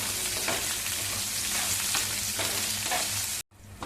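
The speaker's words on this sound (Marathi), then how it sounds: "सगळी फोडणी चांगली हलवून घेऊया." Loud, close sizzling of tempering spices, including asafoetida, frying in oil with scraping stirs, continuous until it abruptly drops out near the end.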